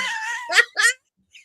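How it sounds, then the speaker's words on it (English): A dog makes a few short, squeaky high-pitched whimpers and yips in quick succession, close and fairly loud, with a faint last squeak after a brief pause. "At one point, it sounded like your dog was a squeaky door."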